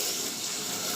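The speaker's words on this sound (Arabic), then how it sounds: "وبعد ما السكر يا حبايبي اتكرمل عندي بالشكل ده بقى هنزل بكوبايتين ميه كبار سخنين" Two large cups of hot water poured onto caramelized sugar in a pan, giving a steady, loud hiss and rush of water and steam throughout the moment, with no voices.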